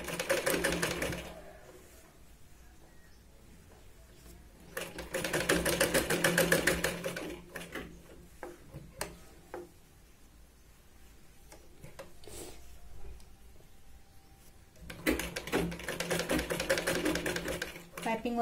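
An electric sewing machine stitches a large Katori blouse in short bursts of rapid mechanical rattling, several seconds each, with quieter handling pauses between, under someone talking softly.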